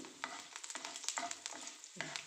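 Rice and crushed garlic fry in a pan, a faint sizzle broken by quick scraping stirs and small crackling pops in an irregular rhythm, with no voices.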